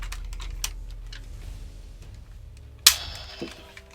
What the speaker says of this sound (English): you get that shooting sound effect when you fire it